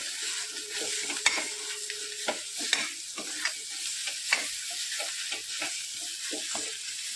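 Eggplant bharit being mixed in a hot pan gives soft steady frying sizzle with repeated scraping strokes of a spoon at an even pace, close up with no voices.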